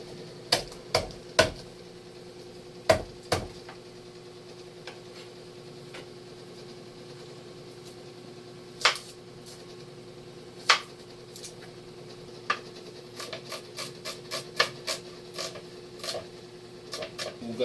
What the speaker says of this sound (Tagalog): Kasi lihiwain na natin yung ingredient na gagamitin natin sa pagigisa.